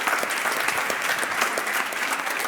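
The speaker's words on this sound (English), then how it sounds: "A big applause for Jan." An audience at the StartLife Demo Day in fall 2023 applauds for Jan: steady, dense clapping from many hands that fills the room evenly, close and loud, with no voices over it.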